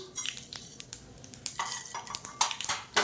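Mustard seeds and urad dal dropping into a hot pan, a series of sharp crackles, pops and metallic clinks against the pan, faint and intermittent with no talk.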